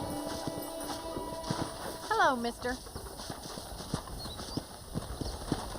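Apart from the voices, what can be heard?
horse hooves clip-clopping, from video game Red Dead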